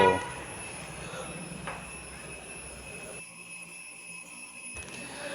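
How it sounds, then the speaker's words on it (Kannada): A motorized spray machine runs in a ginger field, its engine a steady droning whine with a high constant tone that drops out briefly and returns. "ಸ್ಪ್ರೇ ಮಿಷಿನ್ ನೋಡಿ ಹೆವಿ ಸ್ಪೀಡ್ ಇದೆ ಬೇಗ ಬೇಗ ಹೊಡ್ಕೊಂಡು ಹೋಗ್ಬೋದು"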